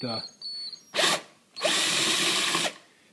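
Two bursts from a power drill loosening the bolts on a Mercedes-Benz S600 oil cooler, a short whir followed by a longer steady one of about a second, loud and close with no talk.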